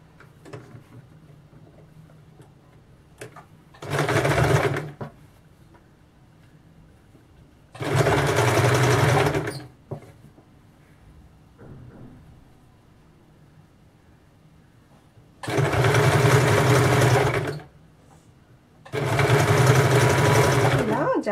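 A sewing machine stitches a blouse neckline in four separate bursts of steady whirring, each about two seconds long, close and clear. Quiet pauses fall between the bursts.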